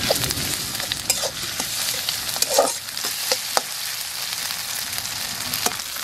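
Black cumin, onion and a ginger-garlic-dried-chilli paste fry and get stirred in a pot for a village egg curry, with a steady close sizzle broken by scraping stirs and occasional knocks.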